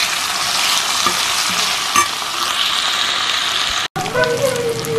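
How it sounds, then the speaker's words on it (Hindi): Peas and potatoes sizzle and crackle loudly in a hot pan for aloo muttar kadhi, a steady close frying hiss with occasional stirring scrapes and a brief break near the end. "अभी हम डाल देंगे मटर और आलू, इनको भी थोड़ा सा पकाएंगे"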